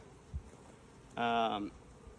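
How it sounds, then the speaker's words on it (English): A brief, close buzzing burst of about half a second from honey bees around a hive stands out over a quiet background, like a bee passing near. "I'm gonna set this down gently because it's got some bees on it."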